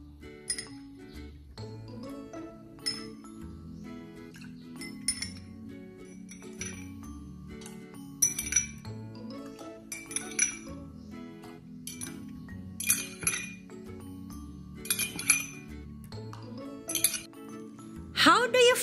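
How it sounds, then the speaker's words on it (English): A metal spoon repeatedly clinks against a glass of water as it is scooped empty, giving bright, irregular taps and rattles throughout, busier toward the end, while a person talks underneath. "In 1 minute, you have to empty the glass using the spoon."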